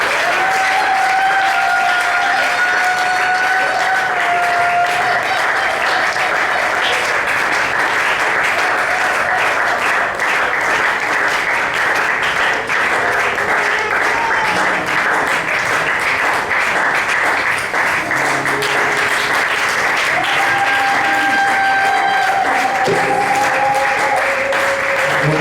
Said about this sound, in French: Et sous vos acclamations, nous voulons recevoir l'évangéliste Paul Wango.